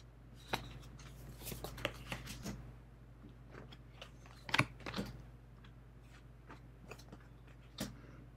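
Tarot and playing cards from a Marseille-style deck are flipped by hand, giving soft, papery snaps and clicks at irregular intervals, faint and close, with a slightly louder cluster midway.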